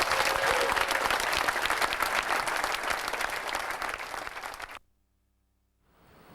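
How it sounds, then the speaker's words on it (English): An audience gives a round of applause at the Sunrayce 97 solar car race event: loud, sustained clapping that gradually eases, then cuts off into silence before faint background sound returns. "So I'd also like to give everyone here a round of applause."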